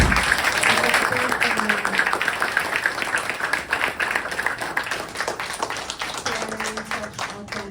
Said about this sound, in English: can I have another round of applause for our sharing